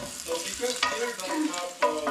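Garlic sautéing in a small frying pan, a close crackling sizzle mixed with a few spoon scrapes and stirring knocks, continuous and fairly loud, with no talking.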